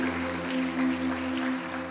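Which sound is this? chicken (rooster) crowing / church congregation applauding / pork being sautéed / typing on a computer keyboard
church congregation applauding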